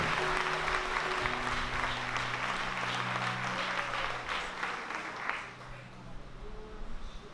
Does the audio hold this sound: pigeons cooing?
no